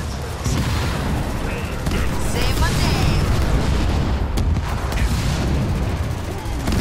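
Heavy cannon artillery fire in Halo Wars 2, repeated booming blasts and rumbling impacts in a dense battle din, with brief unit voice lines over it.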